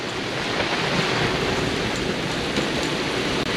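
Strong storm winds roar over a sailboat sailing from Carrabelle to Tarpon Springs, Florida, with loud, steady wind and wave noise buffeting the microphone throughout.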